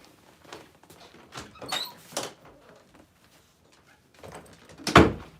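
A house door opened to let a dog inside, with several soft knocks and clunks spaced across the moment and a louder thump near the end, heard alone in a quiet room.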